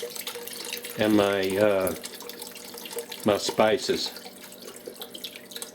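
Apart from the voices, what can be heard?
water being added to gumbo pot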